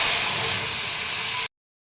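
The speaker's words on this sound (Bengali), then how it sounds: "আমার ফোড়নটা ভাজা হয়ে গেছে, এবার আমি এটা ঢেলে দিই।" A loud, broad hiss of fried tempering (phoron) being poured into a curry, a sustained sizzle lasting over a second before cutting off abruptly into silence.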